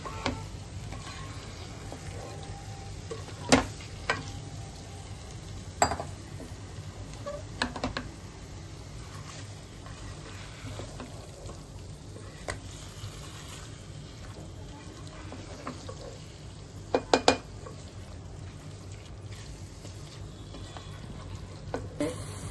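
Marinated chicken is stirred and fried in spiced oil, giving a quiet steady sizzle with scattered scraping clicks from the spoon and no talk.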